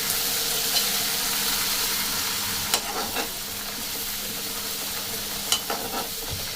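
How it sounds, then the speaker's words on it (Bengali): Pea-stuffed kachori made with sun-dried rice frying in very hot oil: a steady, broadband sizzle and bubbling throughout, with a couple of sharper crackles and pops near the middle and end, no voices. "তেল কিন্তু খুব গরম রাখতে হবে, গরম রাখলে কিন্তু দেখবেন সুন্দরভাবে লুচিগুলো ফুলে একদম দুখোল হয়ে"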